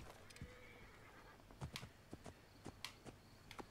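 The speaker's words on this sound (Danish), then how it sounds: "Kan vi lige kalde på vores hest her?" In Assassin's Creed Origins, a horse whinnies briefly, then hooves clip-clop in a few sharp, close steps, quiet overall with no talking.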